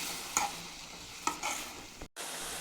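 Soaked tamarind stirs into fried capsicum in a pan for capsicum rice bath, a soft sizzle under a few scraping spoon strokes, close and quiet, ending in a brief cutoff.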